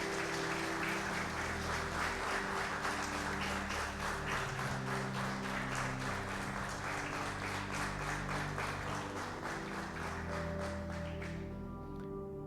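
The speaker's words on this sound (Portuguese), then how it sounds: "Vamos bater palmas para o Senhor pelo que Ele acabou de fazer?" A church congregation claps steadily for about twelve seconds during a Sunday-morning service, the dense applause filling the room over sustained low keyboard or organ tones that continue beneath it.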